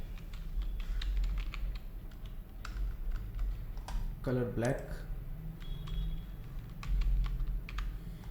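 Rapid, uneven clicking of keys as text is typed on a computer keyboard, close by and continuous, while someone speaks briefly midway.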